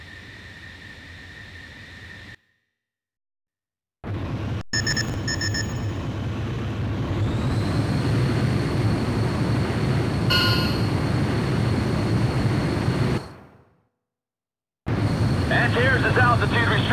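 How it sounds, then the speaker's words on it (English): A jet fighter in Ace Combat Joint Assault, the XFA-27, spools up and takes off: a loud, steady engine roar with a rising whine that holds for about nine seconds, broken by silent gaps. Radio voices talk over it. "Antares, you're clear for takeoff."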